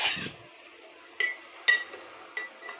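A spoon clinks against a container while a packet of medicine powder is stirred into about a litre of water. Four quiet, sharp clinks come at irregular intervals with near silence between them.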